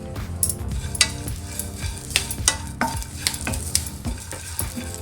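Garlic and curry leaves fry in a pan for flax seed chutney powder, giving a crisp sizzle broken by repeated scraping strokes of a spoon against the pan, close up and without talk.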